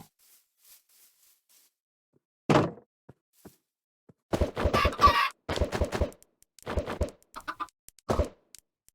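Several short bursts of Minecraft chicken clucking, one near the start and a busier cluster later, separated by quiet gaps.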